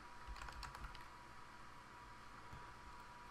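Rapid keyboard typing, a quick burst of key clicks in the first second, then a few scattered taps over a quiet background hum.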